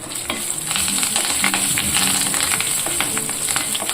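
Curry leaves and asafoetida crackle and sizzle steadily in hot oil for a tempering, a close, continuous frying hiss with small pops and light stirring.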